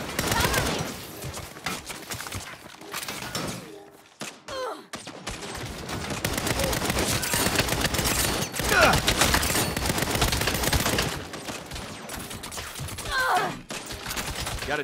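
Sustained bursts of automatic gunfire in the video game Saints Row, where a player trades shots with snipers on an upper floor; dense rapid shots rattle almost continuously with short pauses, under occasional talk.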